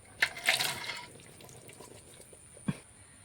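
Boiled papaya pieces dropped into sugar water for homemade tutti frutti, giving a quick run of wet plops and splashes at the start and one more splash near the end, close and alone.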